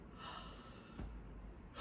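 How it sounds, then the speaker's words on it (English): One person gives a faint, drawn-out yawn with breathy inhaling and a soft exhale, close by and quiet. "I have to yawn"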